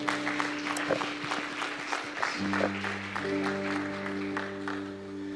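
A church congregation claps steadily and continuously, with sustained organ or keyboard chords ringing underneath the applause.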